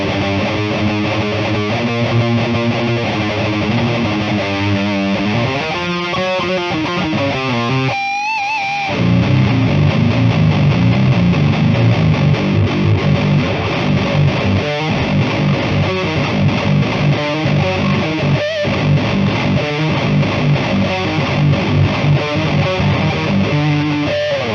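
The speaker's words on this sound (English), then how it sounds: "It's actually a usable type of distortion" Electric guitar played through a Klirrton OH MY GOAT distortion pedal into a Nux Solid Studio: thick, saturated distorted chords and single-note lines, loud and continuous, with a brief pause before strummed, sustained crunchy chords ring on alone.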